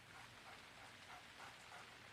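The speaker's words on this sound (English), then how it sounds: "It's raining." Soft steady rain hisses in the video game Deadly Premonition, a faint even wash of falling drops with no other sounds on top.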